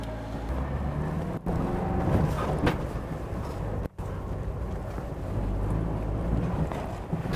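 A Polski Fiat 125p ambulance drives along, its engine a steady low rumble mixed with road and wind noise, continuous and fairly loud with two brief dropouts.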